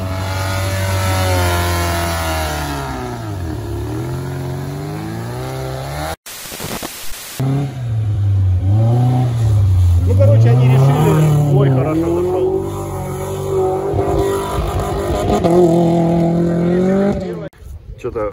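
A UAZ off-road vehicle's engine revs hard during an off-road race, the mid-pitched roar rising and falling over loud talk, with a brief sharp break in the middle.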